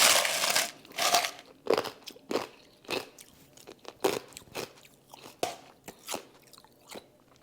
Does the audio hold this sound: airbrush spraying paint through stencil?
no